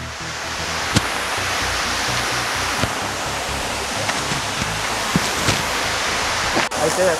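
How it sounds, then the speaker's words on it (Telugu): The Benarai waterfall roars as a constant broadband rush of falling water, steady and enveloping throughout, with faint voices and a few small knocks mixed in. "బెనరాయ్ వాటర్ ఫాల్"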